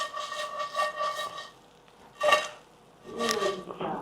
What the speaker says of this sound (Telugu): లైట్గా కారం, ఇంకా లైట్గా ఉప్పు కట్టేస్తున్నాం. ఇంక ఇది కలపటమే మన పని.